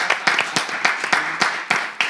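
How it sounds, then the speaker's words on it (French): Short burst of enthusiastic clapping from a group, dense and rhythmic, close and fairly loud. "On va applaudir pour lui."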